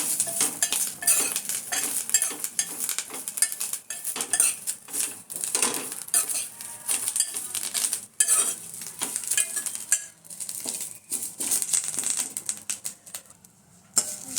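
Curry leaves roast in a pan under a constant rapid clatter of a spoon scraping and knocking against the metal, with a light sizzle beneath the busy, uneven stirring; no talking.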